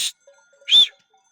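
A single short goat bleat, fairly close, after a brief rustle, with quiet pauses around it.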